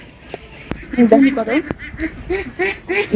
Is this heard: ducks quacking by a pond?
yes